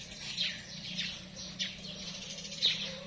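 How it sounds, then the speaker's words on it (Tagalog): Birds chirp among garden plants and coconut palms, with several short tweets scattered across the moment over a soft outdoor background hum, moderately near. "Marami pong ibon. Siguro dahil po may nyog."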